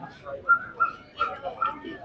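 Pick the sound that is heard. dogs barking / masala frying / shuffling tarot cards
dogs barking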